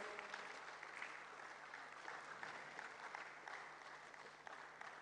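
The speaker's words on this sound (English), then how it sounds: "Let's welcome Madame with a hand of applause." An audience at a university and industry tech dialogue claps steadily, welcoming a speaker. The applause is faint and distant, with sustained dense clapping and no voices over it.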